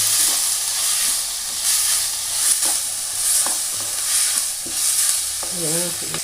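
Onions and tomatoes sizzle steadily in a hot pan, with occasional stirring scrapes and a faint voice near the end.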